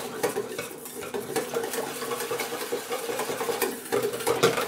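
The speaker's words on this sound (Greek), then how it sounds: "παίρνουμε το σύρμα και ανακατεύουμε" A wire whisk stirs condensed milk and sugar in a bowl for mango ice cream, producing fast, continuous rhythmic scraping and clinking against the bowl, close and moderately loud with no talking.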